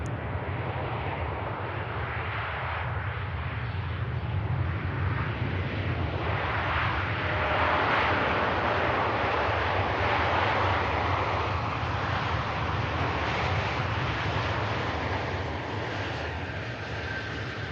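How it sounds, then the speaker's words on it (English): A Virgin Atlantic Airbus A330 touches down smoothly on the runway at Manchester Airport, its steady broadband engine roar loud and continuous throughout, with no voices. "Virgin Atlantic A330 butter in the runway there."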